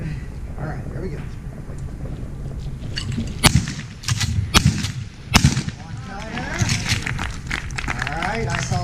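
Shotgun firing at clay targets and an ejected hull during a demonstration, several sharp loud bangs in quick succession, with a person talking throughout.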